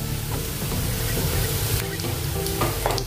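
Steady sizzling of potatoes and eggplant frying in a pan, a dense crackling hiss with occasional scraping stirs.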